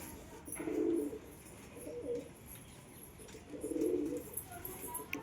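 Pigeons coo softly in a loft as one settles back onto its eggs; two low, rolling bursts of cooing rise and fade against a faint, steady background.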